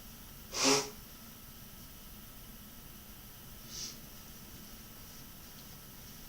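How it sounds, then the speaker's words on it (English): A single short nose blow into a tissue, close and brief, followed a few seconds later by a fainter sniff-like puff in an otherwise quiet room. "so that was me blowing my nose"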